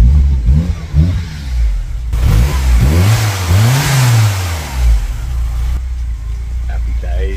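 A 1986 VW Polo Mk2 engine revving after a master cylinder change, rising and falling through a couple of close, loud throttle blips before settling back to idle.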